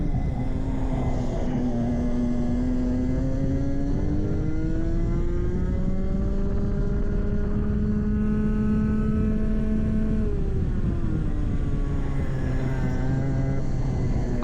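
Race car engine droning loud and steady with rising and falling pitch as it slots in behind car number 9 and drives past it, the tone climbing then dropping off near the end.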